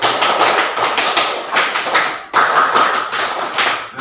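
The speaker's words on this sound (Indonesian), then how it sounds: "2 kali tepuk pramuka." Scouts' tepuk pramuka clapping rhythm performed twice in a teaching session: two bursts of quick, patterned handclaps and slaps, close and crisp, separated by a brief pause midway.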